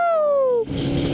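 Suzuki Hayabusa motorcycle engine on the road, a loud high revving whine that falls in pitch for about half a second, then gives way to broad rushing wind and road noise.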